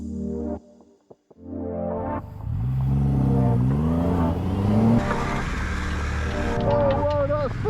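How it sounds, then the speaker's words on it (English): A 2025 Honda Hornet 750 middleweight motorcycle accelerates while being ridden, its engine note rising and sweeping up through revs close to the microphone, with wind rush behind it. "today we're riding the Honda Hornet 750"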